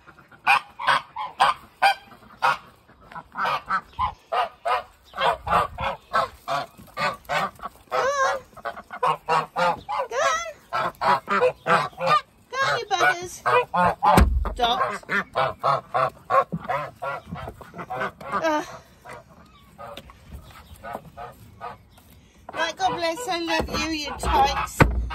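A flock of geese and ducks honks loudly and repeatedly close by in an irregular stream of calls, with a person speaking at times among them.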